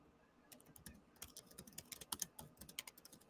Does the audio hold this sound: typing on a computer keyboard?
yes